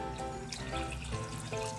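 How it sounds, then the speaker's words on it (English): Water pours into a pot holding a 15-ounce can of tomato sauce for a calabacitas stew, giving a steady close trickle and slosh over about two seconds. "I'm gonna add 1 can of tomato sauce, and this is a 15 ounce, just a regular can of tomato sauce to that, as well as water."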